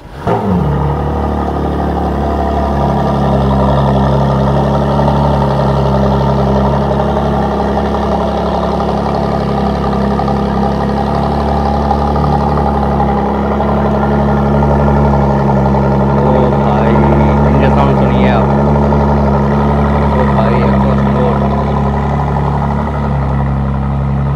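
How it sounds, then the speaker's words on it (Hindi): A McLaren Artura supercar's 3-litre hybrid V6 runs steadily, a loud, close, sustained engine drone with a deep low hum that holds evenly throughout, alone without talk. "इंजन साउंड सुनते हैं"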